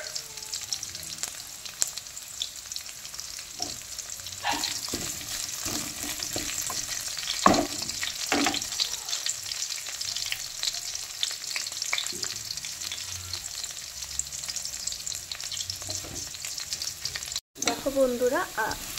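Onions browning in a pan for a prawn and Malabar spinach chorchori, giving a steady, close sizzle with frequent stirring and scraping throughout, ending in a brief knock.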